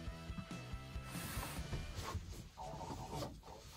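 Ratchet wrench loosening the bolts that hold a Thetford RV toilet bowl to its vertical base, a close, steady metallic clicking with gear-like chatter throughout, fairly quiet but continuous.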